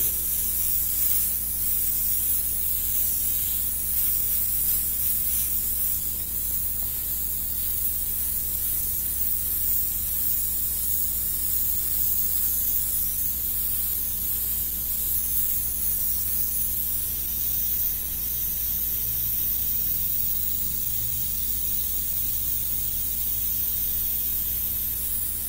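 Airbrush spraying shadow paint onto a red-painted mural, a steady, continuous airy hiss that runs unbroken throughout with a low hum beneath it.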